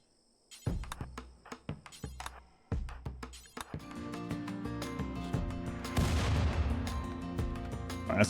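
Plasteel mortars firing in RimWorld, a series of sharp booming thumps followed by a dense, rising barrage of overlapping explosions and impacts, loud and close.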